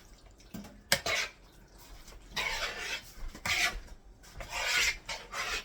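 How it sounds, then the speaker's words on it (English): Melted butter is stirred into cheesy potatoes in a bowl, with repeated soft, rasping scrapes of a spoon through the thick mixture, one sharp knock near the start, and quiet gaps between strokes, with no talk. "And stir that into it."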